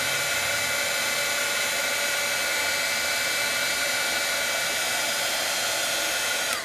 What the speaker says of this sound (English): And as it changes, I move my heat tool.